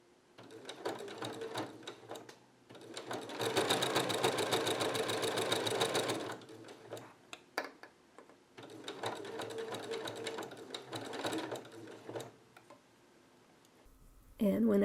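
A sewing machine stitches down the binding on a quilt in two steady bursts of several seconds each, close and fairly loud, with pauses of quiet handling between them.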